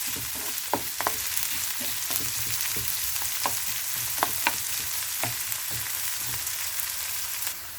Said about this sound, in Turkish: Evet şimdi biberlerim, soğanım biraz böyle kavruldu